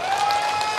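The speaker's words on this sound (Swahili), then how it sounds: "Tuwapigie makofi majaji yetu." Brief burst of dense clapping from a crowd at an ODM political rally in Nyamache, Kisii County, applauding the judges, loud and continuous for under a second.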